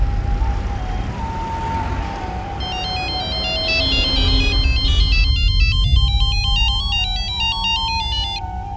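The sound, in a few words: phone ringing on an outgoing call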